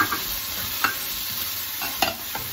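Boiled chicken stirred and tossed in a pan of sizzling guisado for Hokkien noodles, steady frying hiss with several sharp spatula scrapes and clacks against the pan.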